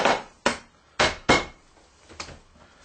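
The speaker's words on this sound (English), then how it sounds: "Couple of whacks on the board for luck." A cleaver or heavy knife whacks meat against a wooden cutting board in about five sharp, close thuds spaced roughly half a second apart, the last one softer.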